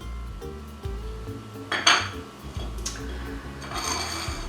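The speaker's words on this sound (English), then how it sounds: "Now we're going to mix our wet ingredients together in a separate bowl." Wet ingredients for hoe cakes whisked together in a separate bowl, a utensil clinking and scraping against the dish in quick irregular strokes, fairly close and without speech.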